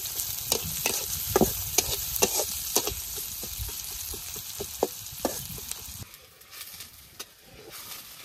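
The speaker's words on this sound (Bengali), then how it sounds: "পেঁয়াজটা খুব ভালোভাবে ভেজে নিমু লাল লাল করে" Chopped onion sizzles steadily in hot oil, with repeated close stirring scrapes and clicks of a spoon against the pan throughout.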